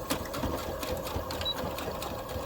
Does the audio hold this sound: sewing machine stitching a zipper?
yes